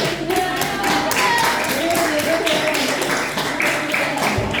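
A crowd claps steadily for several seconds, a dense patter of many hands, with a faint voice underneath.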